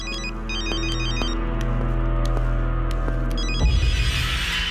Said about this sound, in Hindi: रिंग बजी तो थी।